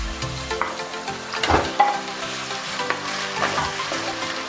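Mutton goes into a pan of frying ginger garlic paste for a mutton and ridge gourd curry, giving a bright sizzle with a few stirring knocks and clinks.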